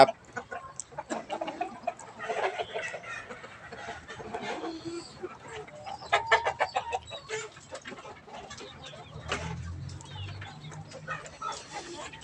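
Fighting roosters in a backyard garden in Thailand cluck and mutter in scattered, fairly faint bursts over several seconds, with someone talking intermittently nearby and a low hum toward the end.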